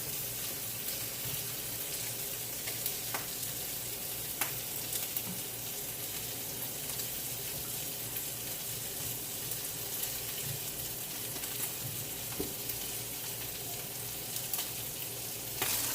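Steady sizzling from green plantain frying in a pan, a constant crackling hiss with occasional small pops and clicks.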